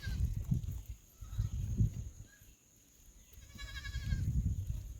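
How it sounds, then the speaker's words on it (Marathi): A young goat kid bleats several times, thin wavering cries close by, with short pauses between them and a quiet village outdoor background. "बकऱ्याचं बकरीचं पिल्लू येलेलं आहे त्याला घेतले मी"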